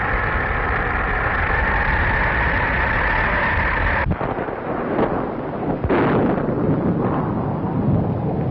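Storm wind roars in a steady, heavy rush of low noise, then cuts abruptly and gusts back in uneven surges, with a muffled, band-limited quality, like the sound of an early-1930s film.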